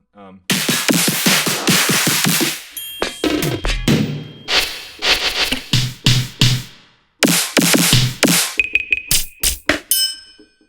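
Drum rack samples triggered from a keyboard, a series of punchy hits and bright metallic dings in quick bursts with short gaps, loud and close.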